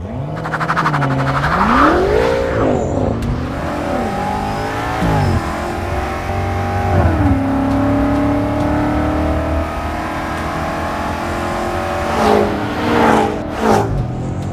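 A 2021 BMW M5 Competition accelerates hard, its engine note climbing steeply through the gears with brief dips at each upshift, loud and close from inside the car, ending in a sustained high-speed drone with some rattling near the end.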